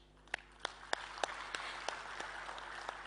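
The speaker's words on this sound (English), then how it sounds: "please put your hands together to give a round of applause to the dignitaries on the stage" An audience at the G20 Summit 2023 applauds dignitaries on stage, a soft, distant spread of clapping beneath a steady hum, punctuated by a few sharper, evenly spaced claps close by.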